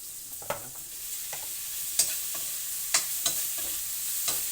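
Mushrooms cook in a pot of hot oil with aromatics, a soft steady sizzle close by, broken by a few sharp clinks and scrapes of a utensil stirring, with no voices.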